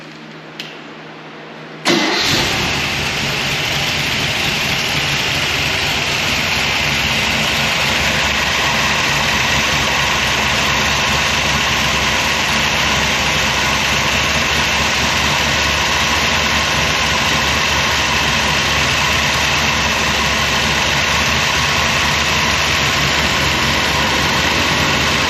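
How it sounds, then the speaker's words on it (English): A 400 small-block Chevy V8 cranks and catches after a quiet moment, then settles into a loud, steady idle close to the listener for over twenty seconds. "So what we'll do now is we'll start the motor up."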